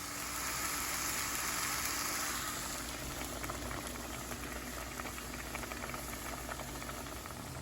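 Spaghetti boiling in a pot of water, a dense, continuous rolling bubble and hiss that stays steady and close throughout with no talk.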